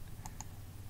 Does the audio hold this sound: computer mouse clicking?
yes